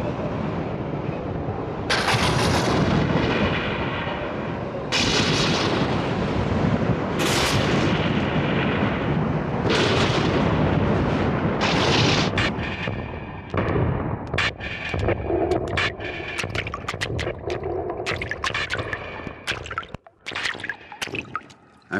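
Volcanic eruptions boom in heavy, rumbling blasts, several long roaring bursts one after another, then sharper crackling pops and spattering bursts toward the end.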